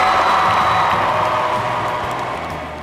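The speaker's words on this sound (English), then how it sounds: "Let's give one more round of applause for your band." A large crowd cheers and applauds for a band at a community Dream Day event, a dense, steady roar of clapping and shouting that fades slightly toward the end.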